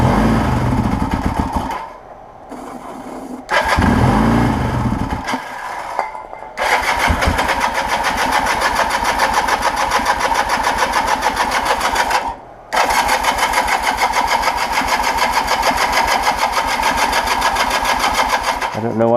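A 1980 Kawasaki KZ LTD440 motorcycle engine running rough and chugging close by, a loud, uneven idle that cuts out briefly several times before catching again.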